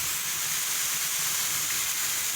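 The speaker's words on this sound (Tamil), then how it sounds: "இந்த ஸ்டேஜில் நம்ம தண்ணி ஊற்றுவோம்." Water is poured into a pan of chilli chicken gravy with hot spiced oil. It gives a continuous loud hiss and sizzle that holds evenly from start to finish.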